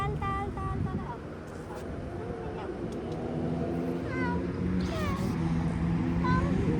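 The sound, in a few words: cat meowing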